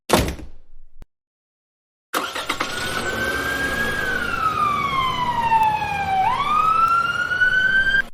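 A police car siren wails up close and loud, sweeping slowly down in pitch and then snapping back up. It starts after a brief thud and a moment of silence, and no one speaks over it.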